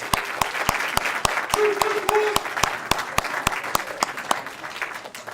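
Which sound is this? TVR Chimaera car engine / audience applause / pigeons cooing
audience applause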